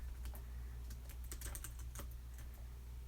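Fingers type a chat message on a computer keyboard, producing a quiet, uneven burst of close key taps over a low steady hum, with no voices.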